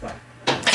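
A room door swings shut with a dull thump partway through, followed by a second softer knock as it settles, close by in a quiet indoor space.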